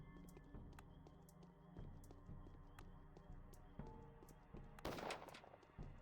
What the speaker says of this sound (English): The sounds of those gunshots is getting me.